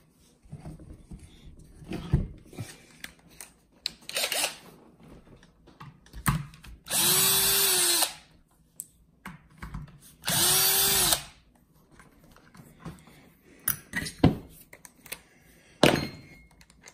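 A power drill removes screws from the underside of a Losi 8ight-T RC truck, with two loud, close whirring bursts of about a second each, surrounded by quieter clicks, taps and parts handling, and no talking.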